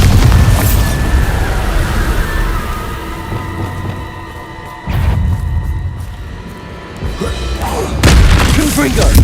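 Bombarda explosion spell in Hogwarts Legacy, a heavy booming blast that surges and then fades, with a second burst following later, over a dense, continuous rumble of game noise.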